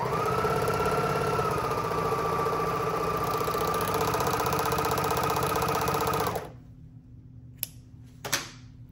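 A sewing machine stitches the frayed edge of a silk flag, a steady, close mechanical whirring hum that runs for about six seconds and then stops, followed by a few faint handling taps.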